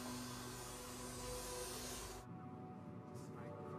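A vacuum cleaner runs loud and steady while cleaning a car interior, then cuts off abruptly partway through, leaving a quieter background.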